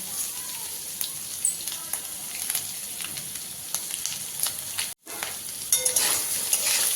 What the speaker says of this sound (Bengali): ছোলাটা একটু ভাজা হয়ে গেলে এর মধ্যে অল্প একটু নারকেল কোড়া দিয়ে দেব।